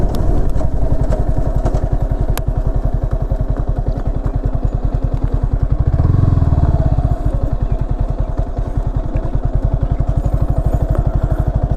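A Yamaha R15 V4 motorcycle engine pulls steadily in sixth gear while riding, a loud, close, even exhaust pulse running continuously with a brief swell in the middle.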